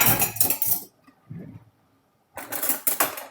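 Bursts of metallic clinking and scraping, a spoon knocking against a pot while cooking Bolognese pasta, with a short quiet pause in the middle before the clatter resumes.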